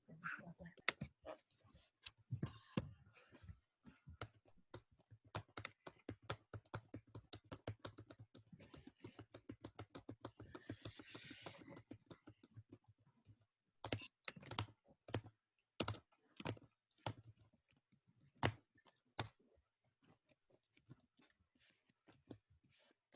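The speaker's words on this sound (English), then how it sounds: "Is someone banging their keyboard?" A computer keyboard is typed on rapidly during an online JavaScript lesson, with dense streams of quiet clicks that later break into slower, separated bursts of harder key strikes.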